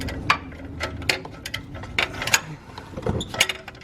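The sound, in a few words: ratchet loosening upstream O2 sensor on Kia Soul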